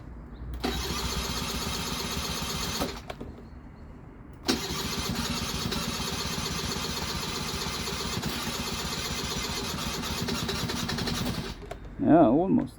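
A 2001 Hyosung Sense scooter with a newly replaced throttle valve cranks and catches, running in two stretches with a brief stall between, a steady near buzz, and a voice speaks at the end.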